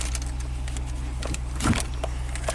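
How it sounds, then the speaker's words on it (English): Inside a truck, the four-wheel-drive actuator engages 4 low with a brief mechanical whir and clunk over a steady idling engine hum, heard close up without talk. "You heard the actuator."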